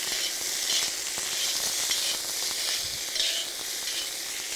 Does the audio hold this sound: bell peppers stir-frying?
yes